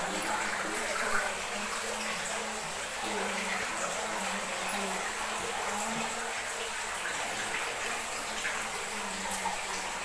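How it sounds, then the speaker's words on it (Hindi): Water flows steadily below a hillside temple, Eshwara Mahadev near Morena, a continuous broadband rush at moderate level with no breaks, accompanied by a faint low hum. "ये पानी की आवाज तो आ रही है लेकिन कहाँ से आ रही ये नहीं समझ में आ रहा है।"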